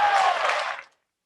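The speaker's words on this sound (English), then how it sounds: "Please, let's give a long round of applause for Insert Name Here." A dense burst of applause for a magician at a virtual magic show, loud and continuous, then quickly dying away to silence just before the one-second mark.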